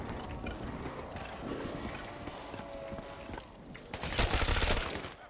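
Rapid video game gunfire rattles in dense, continuous bursts, steady through most of the span and swelling into a louder volley near the end, with no speech.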